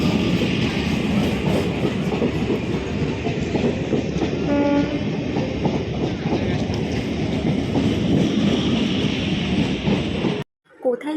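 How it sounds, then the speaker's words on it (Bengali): Loud, continuous rumble and clatter of a train pulling in close by, with a brief horn partway through and voices in the background. "আমার ট্রেন ঢুকে গেছে"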